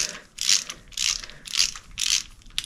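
Ratchet clicking in four quick bursts as a thin-wall socket works the spark plugs loose on a 1974 Honda CB350F motorcycle, close and crisp, with no talk.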